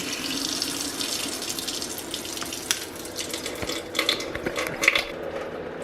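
Water runs from a household tap after the supply is turned back on following a plumbing patch repair, a steady hiss of flow with clinks and splashes near a sink.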